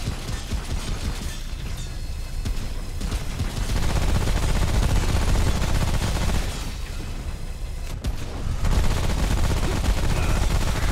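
Shotgun blasts in the co-op video game Remnant: From the Ashes ring out amid a dense, continuous din of heavy gunfire and combat noise that stays loud throughout.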